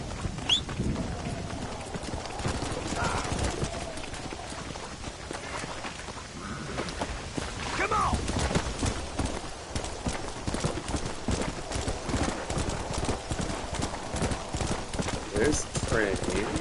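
A horse gallops in Red Dead Redemption, its hooves drumming in a fast, steady clip-clop that carries on throughout, with someone talking over it.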